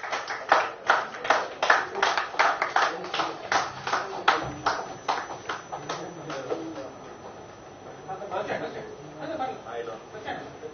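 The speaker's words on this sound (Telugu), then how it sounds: "సార్ అందరు క్లాప్స్ కొట్టండి సార్ ప్లీజ్" Audience applause at a Telugu film audio launch event at a film chamber hall: rapid bursts of clapping up front that thin out and fade, with talk and crowd murmur underneath.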